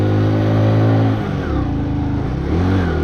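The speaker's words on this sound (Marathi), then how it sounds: "मित्रांनो तर गाडी सकाळ सकाळ लई स्ट्रगल करत होती" A motorcycle engine struggling to run on a freezing cold morning at a high mountain pass, loud and close, droning then dipping and surging unevenly as revs rise and fall, no talking.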